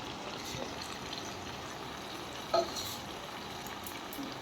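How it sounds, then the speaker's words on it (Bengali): Onion, green chilli, two kinds of capsicum and spring onion stirred in a hot pan for chili chicken, giving a steady, fairly faint sizzle and hiss with one brief clink partway through and no voices. "ভালো করে নেড়ে চেড়ে নিচ্ছি"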